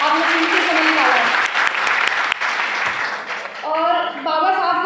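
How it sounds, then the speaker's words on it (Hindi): Loud applause from an audience at a Bahujan community event, broad clapping filling the space, with speech overlapping and taking over toward the end. "आप सभी के लिए एक बार जोरदार तालियां"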